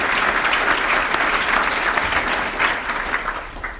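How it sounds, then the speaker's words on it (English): A civic audience at a State of the City address applauds a professor, sustained loud clapping throughout the hall with a few cheers mixed in, holding steady and easing slightly near the end. "Let's give Professor Lay a round of applause for what he does."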